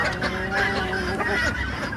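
Chickens squawk and cluck excitedly in a close, continuous flurry of overlapping calls, with harsher honk-like cries breaking through.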